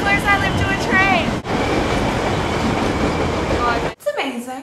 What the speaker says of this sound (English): You get to see how close I live to a train.